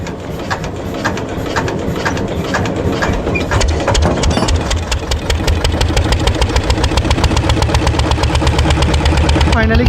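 A motor boat engine chugs loudly and rhythmically, its steady putter building slightly as it pulls away from the bank to cross a river near Kolkata, close by and continuous.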